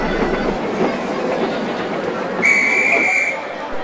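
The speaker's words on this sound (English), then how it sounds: "And with that, Gordon puffed away with his express." A steam engine pulls away with an express train: steady rumbling train noise with rhythmic puffing throughout, and a loud whistle blows for about a second near the end.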